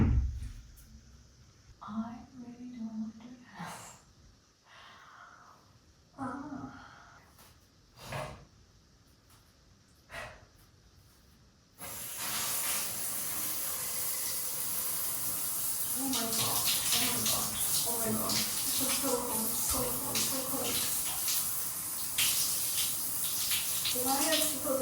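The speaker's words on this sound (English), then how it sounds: "I get to wake myself up with a super cold shower now" A cold shower runs as a steady, loud spray of water that starts about halfway through, after some earlier clattering and breathing. A person's voice is heard over the rushing water.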